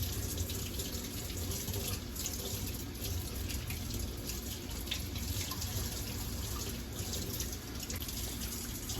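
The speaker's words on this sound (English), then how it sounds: "rinse it thoroughly to get all that soap out." Fluval 207 aquarium filter parts being rinsed under a running tap into a sink, a steady continuous rush of water with splashing that holds at an even level throughout, with no voices.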